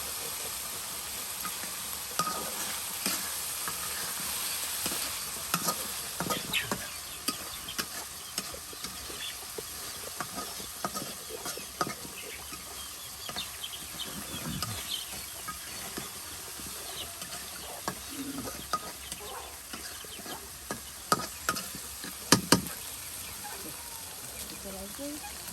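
Eggs and onions frying and being stirred into an egg bhuna in a home kitchen, a steady sizzle and hiss with scattered scraping clicks of the spoon, close by, with people talking over it.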